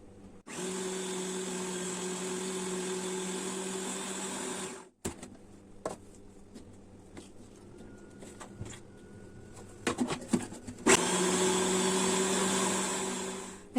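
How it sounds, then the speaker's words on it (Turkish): Food processor grinding a meatball mixture, a loud steady motor whine running for several seconds, stopping briefly amid soft handling clatter, then starting up again just as loud. "Şimdi bu kalan malzememizi de istediğimiz yumuşaklığa gelene kadar yine robotumuzda çekiyoruz böyle."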